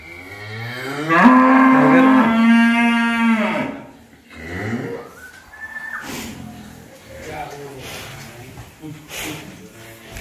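A Pegon cow lets out a long, loud moo nearby, followed by quieter lowing and background talk.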